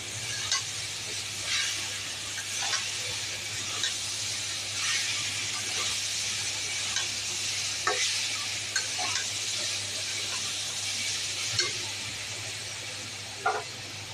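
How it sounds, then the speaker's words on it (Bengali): Mixed vegetable curry (panch mishali tarkari) fries in a pan with a continuous close sizzling hiss and occasional faint clicks of a stirring spoon, no voices. "একটু ভাজা ভাজা হোক, তারপর আমি জল দেবো,"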